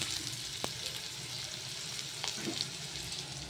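Garlic and greens (saag) sizzle and fry steadily in hot oil in a pan, a continuous close crackle with a few sharper pops and light stirring, no voices.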